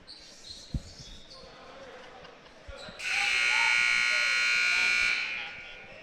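A long, loud electronic buzzer sounds for about two seconds in a high school boys' basketball game gym, Hempfield versus Lebanon, marking the end of a timeout, preceded by a ball bounce and crowd murmur.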